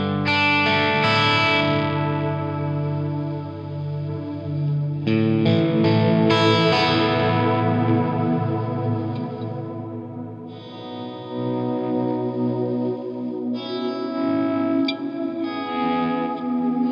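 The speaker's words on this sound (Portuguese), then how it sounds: "temos um reverb que eles chamam de Cloud, que notavelmente é baseado pelo nome no Strymon, né, que é um reverb modulado" Guitar played through the Cloud modulated reverb of a Cuvave Cube Baby amp, sustained chords washing into a shimmering, wavering tail, with several separate strummed passages.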